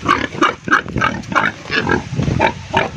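Wild boar on a native pig farm in Calaburnay, Paracale, grunting in a steady run of short, close, fairly loud snorts spaced roughly a third of a second apart, with no one speaking.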